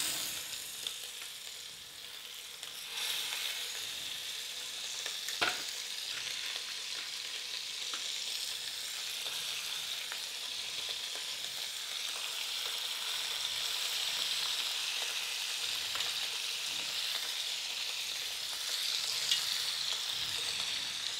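Beef short ribs sear in olive oil in a Dutch oven, a steady, close crackling sizzle that holds throughout with occasional sharper pops and a faint rise in intensity toward the end.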